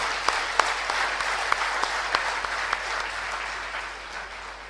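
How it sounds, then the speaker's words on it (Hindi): Audience at an Alcoholics Anonymous service meeting applauding to welcome service members, a steady wash of clapping with a few sharper individual claps standing out, held at moderate level throughout. "हम तालियों से इनका सबका स्वागत करेंगे"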